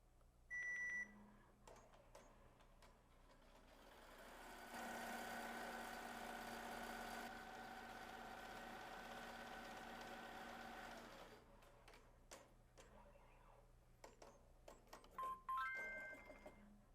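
A Melco Summit embroidery machine stitches micro chenille letters on a left chest logo, giving a steady, fairly loud mechanical whir for about six seconds, with scattered clicks and short beeps before and after.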